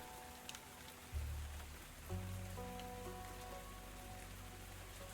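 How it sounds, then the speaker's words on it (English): Gentle, light rain patters steadily on a surface, a soft continuous hiss with faint scattered drops, joined partway through by a low steady hum underneath. "it's just a really gentle pitter-patter"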